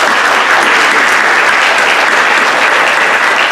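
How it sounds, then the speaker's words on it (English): Loud, sustained applause from an audience at a high school senior signing day, dense steady clapping running the full length without a break. "Let's give them a round of applause."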